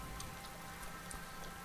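Light rain patters steadily in the survival game DayZ, a soft continuous hiss with scattered faint droplet ticks, quiet and alone.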